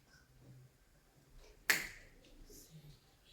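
A single sharp finger snap, close and crisp, standing out against a quiet background with faint murmuring around it.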